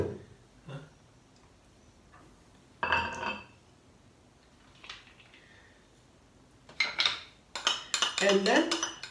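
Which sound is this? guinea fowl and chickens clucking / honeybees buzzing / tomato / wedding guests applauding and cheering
tomato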